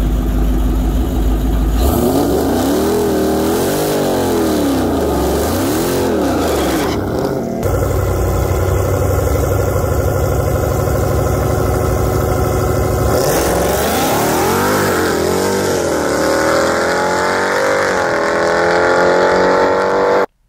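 A supercharged 2015 Dodge Challenger Hellcat, rebuilt with a Whipple 3.8 liter supercharger, revs hard in repeated rising and falling sweeps, loud and close, with a steady idle between bursts and no talking.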